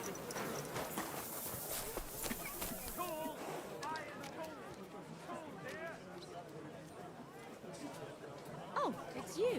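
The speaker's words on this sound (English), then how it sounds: "We'll park our horsey right here." In the medieval video game Kingdom Come: Deliverance II, a horse's hooves clip-clop steadily and close, slowing to a stop, with background chatter and someone talking over the hoofbeats.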